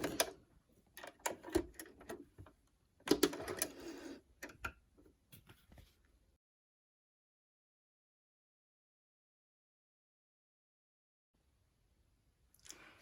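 A sewing machine edge-stitches the hem of a fabric face mask in quick ticking runs with brief pauses, stops at about six seconds, then falls silent with a faint restart at the end.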